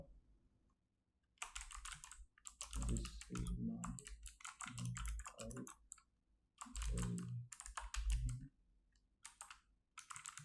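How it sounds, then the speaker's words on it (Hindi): Bursts of typing on a computer keyboard while entering text in the Vim editor on RHEL 8, clustered clicks in several runs separated by short pauses, close and moderately quiet. "उसमें मैं कुछ टेक्स्ट लिख लेता हूँ एग्जाम्पल के पर्पज से"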